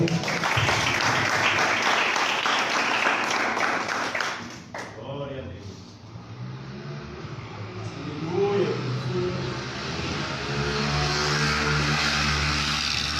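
A church congregation at an Assembly of God missions service applauds loudly for a few seconds, then the clapping stops abruptly and quieter voices and background sounds follow.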